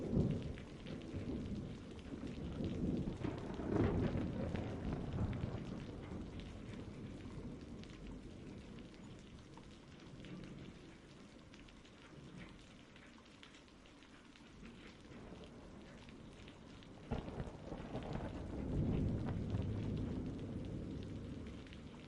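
Steady rain from a thunderstorm drums on a surface, with low rolling thunder swelling near the start, easing through the middle, and building again toward the end, alone with no voices.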